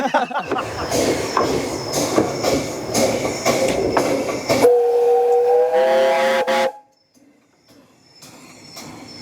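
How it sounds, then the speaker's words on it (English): A train rumbles past nearby with rhythmic clacking wheels, then loud squealing metal tones before it fades, leaving near quiet with faint clicks. "There's a train coming past."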